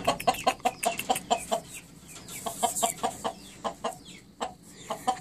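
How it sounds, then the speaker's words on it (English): Miner blue chickens cluck in a brood pen, a rapid series of short, close clucks in a rhythmic run, briefly pausing before more calls resume. "There's some good chickens."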